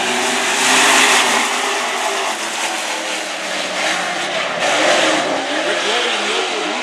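Super trucks race in a heat at Red River Co-op Speedway, engines roaring at full throttle in a loud, continuous blare that swells and fades slightly as the pack passes.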